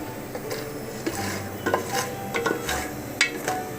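Popcorn kernels heating in a pan on a home stovetop, giving a few sharp, scattered pops over a low sizzling and scraping background, close and moderately loud.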